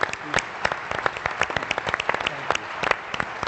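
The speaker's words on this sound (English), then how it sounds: "a big round of applause for Jack Klues." An audience at an agency media conference applauds a panelist, a steady patter of many hands clapping at moderate volume with a few louder individual claps standing out.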